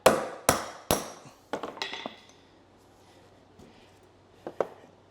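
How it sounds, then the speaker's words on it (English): Sharp metallic hammer blows knock an old bearing out of a John Deere riding lawn tractor with a homemade bolt drift: three hard strikes in quick succession, a few lighter taps, a pause, then two more close, ringing hits. "I use it to hit the bushings out."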